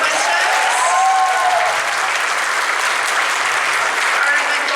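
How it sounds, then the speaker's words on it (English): A crowd at a fan convention Q&A panel gives loud, dense applause that holds steady throughout, with a few faint whistles and cheers in the mix. "a round of applause for the first part of this panel"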